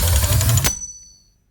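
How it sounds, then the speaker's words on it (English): A sound-design layer of a dry gun click blended with noise: a dense, loud burst of crackling noise that stops abruptly after well under a second, leaving a faint ringing tail fading out. "Just a dry gun click and just some noise, because why the hell not"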